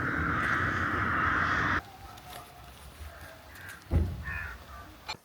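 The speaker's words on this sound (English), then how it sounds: "Look at all them crows." Several crows caw loudly together outdoors beside a river in wet weather, a dense raucous chorus for a couple of seconds, then scattered fainter calls against quieter background noise with a brief thump.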